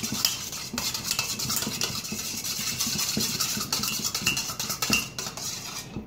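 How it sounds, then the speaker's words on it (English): Homemade hand sanitizer of aloe vera and alcohol is stirred in a bowl, giving continuous scraping and clinking of a utensil against the container at close range. "Now we're going to mix."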